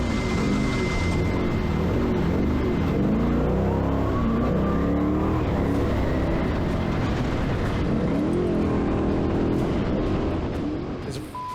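A trophy truck races close behind during the Baja 400 off-road race, its engine a loud continuous roar with rising and falling revs heard from inside another race vehicle over rough terrain.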